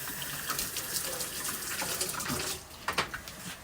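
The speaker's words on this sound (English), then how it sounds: "Let me rinse them real quick." Tap water runs steadily as cherry tomatoes are rinsed under a kitchen faucet, a close, continuous splashing stream with a few brief bursts near the end.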